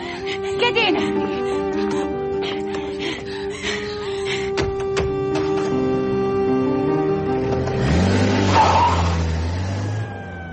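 A car engine revs hard and pulls away with tires squealing and skidding, loud and close, rising into a sustained roar as it speeds off; a voice briefly speaks early on.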